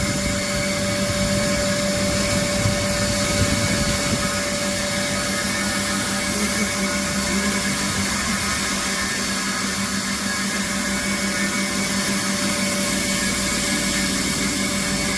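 A 2HP pulverizer flour (aata) grinding machine for home use runs with a loud, constant whirring drone and a steady motor hum, unbroken throughout.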